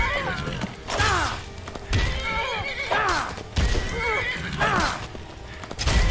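Horses in the video game Skyrim whinny repeatedly with sharp descending calls, roughly once a second, over thudding hooves and game ambience.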